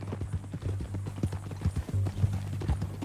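Red Dead Redemption 2 horse hooves clop in a steady, rhythmic gait, close and clear, with a low hum underneath.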